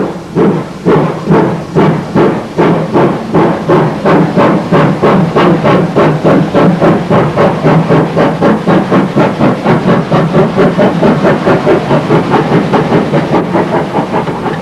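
A Wye Valley Railway last train pulls away from Monmouth for Chepstow in 1959, a steam engine's exhaust beats starting slow and quickening into a steady, loud rhythmic chuffing with rail clatter throughout.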